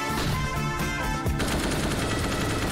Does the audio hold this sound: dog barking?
no